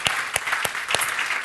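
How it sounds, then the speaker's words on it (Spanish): Congregation in a church applauding together; the clapping comes in strong periodic bursts over a steady bed of crowd claps, close and loud. "Démosle un aplauso al Señor"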